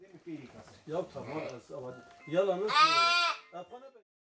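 Sheep bleat close by, several wavering calls in a row, the last one loud and drawn out, with a voice speaking underneath, in a village in Şırnak, Turkey, with newborn lambs.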